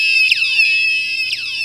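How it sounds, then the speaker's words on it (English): An Arduino-driven piezo buzzer plays a shrill house-alarm tone, a loud continuous electronic whine with repeating downward-sweeping chirps about once a second. "It sounds like some kind of house alarm."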